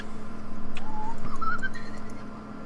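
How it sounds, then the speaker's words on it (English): A brief whooshing, warbling teleport sound effect rises in pitch over a steady low hum, like a short magical sound playing alone. "That's the sound of teleport."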